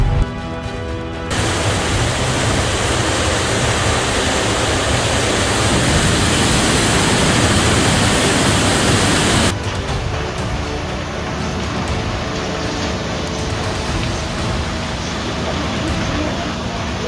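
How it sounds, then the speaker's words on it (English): A roaring torrent of flood mud pours through a town in China, a loud, dense, unbroken rushing wash with an abrupt change in tone partway through. "The mud flow rolls down like a rage, sweeping away everything in its path."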